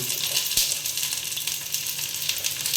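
Potatoes and onions frying in a pan for a crab dish, giving a steady, close hiss of sizzling oil throughout with no talking.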